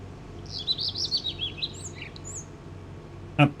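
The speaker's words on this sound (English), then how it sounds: "That bird's fucking loud, isn't it?" A bird sings loud and close in a quick string of bright, high chirps and warbling notes, followed by a short pause and one sharp click.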